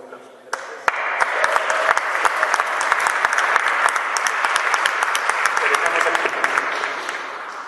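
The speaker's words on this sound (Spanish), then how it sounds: "le pido a ella, por favor, un aplauso" A lecture audience breaks into warm, sustained applause that starts abruptly and holds dense and lively for several seconds before tapering at the end, with a few voices mixed in.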